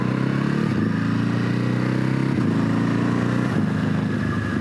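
A Ducati HyperMotard 950 SP 2020 motorcycle riding close and loud, its engine note steady, then stepping up twice with crisp quick-shifter gear changes and no one talking.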